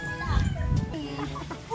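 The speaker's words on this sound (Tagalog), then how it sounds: "Ito na po yung mga manok." Chickens being handed out cluck close by in a rural Filipino yard, the birds' calls mixed under steady conversation and background bustle.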